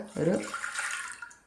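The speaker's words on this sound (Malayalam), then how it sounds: "ഒരു ഗ്ലാസ് വെള്ളം ഒഴിച്ചു കൊടുക്കുക." A short splash of a glass of water being poured close by onto toor dal for ozhichu curry, heard just after a brief voice.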